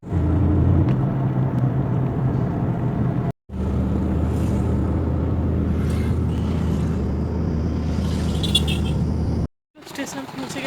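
Car interior on a late-night drive to a station: constant low engine and road rumble throughout, cut by two brief silent gaps, with faint talk and light clatter mixed in.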